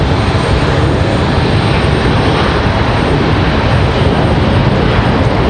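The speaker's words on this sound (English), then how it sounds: "So, Republic Airways out of here." A Republic Airways airliner departs Raleigh-Durham International, its engines a steady, loud broadband roar that holds evenly throughout with no voices over it.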